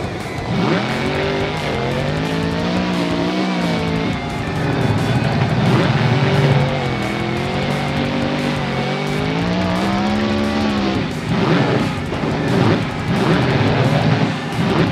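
A monster truck engine in a freestyle video game revs and drones continuously, its pitch rising and falling as it accelerates across the level, loud and steady with no talking.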